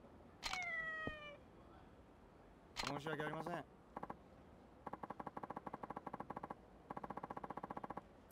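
A cat meows in the video game Yakuza 3, giving a clear, close, drawn-out meow followed by a second cry. Rapid clicking bursts like gunfire or camera shutters follow.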